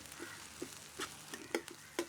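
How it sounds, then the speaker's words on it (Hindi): Tempering (tadka) for dal crackling in a pan: faint, soft sizzling with a few small spattering pops at irregular intervals, quiet and close, with no talk. "मैं भी दाल के लिए तड़का लगा रहा हूँ,"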